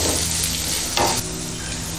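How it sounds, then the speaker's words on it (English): Thinly sliced onion fries in a pan with curry leaves, a loud continuous close sizzle with a brief stirring scrape. "Now I'm gonna add 1 onion, thinly sliced onion into this."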